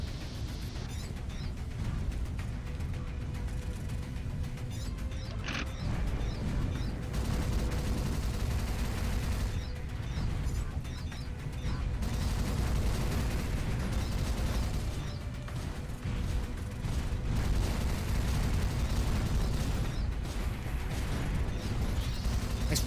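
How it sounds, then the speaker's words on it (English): Continuous rifle fire in the mech combat game Armored Core, dense overlapping shots with mechanical clanks and explosions forming a loud, unbroken wall of battle noise. "Nice rifle, bro."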